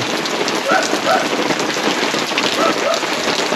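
Steady rain patters densely at a site where a septic tank pit is being dug, a continuous hiss with a few faint chirps of birds above it.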